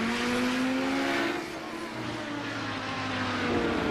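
A race car brakes hard and chops down through the gears on a steep downhill run into an aggressive hairpin, its engine a loud, continuous drone whose pitch steps and slides lower as it slows.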